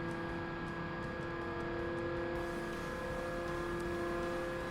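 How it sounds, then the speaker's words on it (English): A car engine droning steadily in 6th gear in Forza Motorsport, a sustained high whine with stable tonal harmonics, close and continuous with no talk. "6th gear does not sound like it's even accelerating properly"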